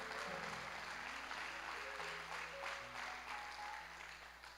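A church congregation claps steadily at a worship service in a dense, continuous wash of applause, with a faint sustained musical tone beneath it and the clapping slowly easing off toward the end.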